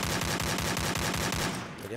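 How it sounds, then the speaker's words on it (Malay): Rapid bursts of automatic gunfire from the mobile battle-royale game Free Fire, played in an esports match; loud, close shots repeat in a steady rhythm throughout, then cut off near the end. "Tembakan dilepaskan"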